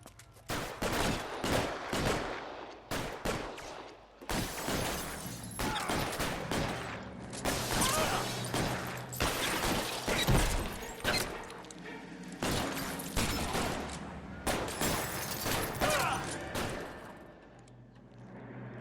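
Heavy video-game gunfire during a bank robbery with police arriving, with sustained bursts of automatic fire and loud repeated shots running almost continuously and close, with brief gaps between volleys.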